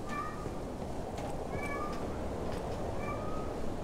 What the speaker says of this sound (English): There is a very loud cat here as well for some reason.